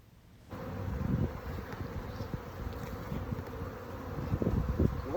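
Honeybees drone steadily and close up around an open beehive being split, a dense continuous buzz with no voices.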